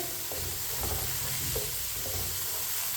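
Peas and mixed vegetables frying in a pot for pilaf, a spoon stirring them in several scraping strokes over a steady close sizzle, with no talking.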